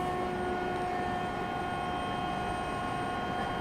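A JetBlue jet airliner at Raleigh-Durham airport gives off a steady, fairly faint engine roar with a faint whine over it, distant and unchanging, with no voices.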